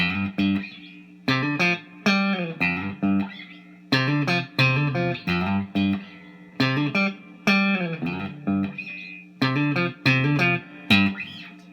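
Distorted electric guitar playing a riff, repeated several times, short phrases of plucked notes with smooth hammer-ons and sliding pitches, played alone.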